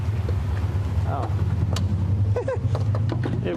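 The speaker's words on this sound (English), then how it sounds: "This guy's got a muffler on this silly little car." Subaru Outback station wagon with a loud aftermarket muffler rumbles steadily as it passes, a low droning exhaust note under scattered voices and chirpy background sounds.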